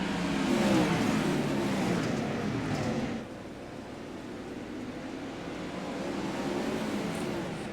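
Race cars on a dirt oval at Cedar Lake roar back to speed on a green-flag restart, a dense, loud engine drone that eases slightly midway and then builds again.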